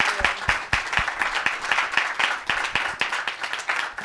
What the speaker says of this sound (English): First and foremost, a round of applause.